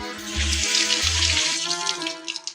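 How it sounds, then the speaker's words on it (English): Tap water runs into a kitchen sink while hands are rinsed, a steady close splash lasting a couple of seconds with no talking. "Let me wash off my hands."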